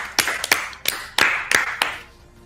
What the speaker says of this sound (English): You got to give a round of applause.